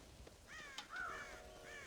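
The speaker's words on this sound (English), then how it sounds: "God damn crows!" Several crows caw in Red Dead Redemption, a run of harsh, rasping calls close by, some overlapping, over quiet outdoor game ambience.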